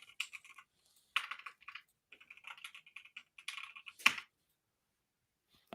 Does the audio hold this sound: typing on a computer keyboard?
yes